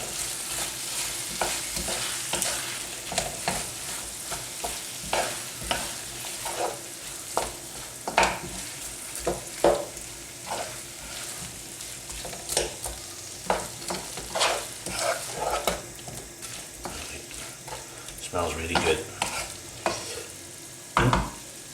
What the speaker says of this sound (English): We've got more onions going in. Give them a stir and a coating of all that.